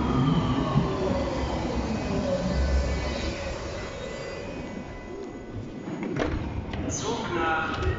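A Berlin U-Bahn train, car 5039-1, running toward Alt-Tegel, with a steady close rumble of wheels and motors throughout and brief higher squeals near the end; people talk over it.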